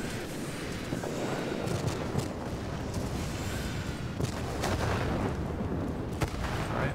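Four 30mm aircraft cannons fire in World of Warplanes against ground targets, a dense, continuous roar of rapid gunfire and booming impacts that stays loud and steady throughout.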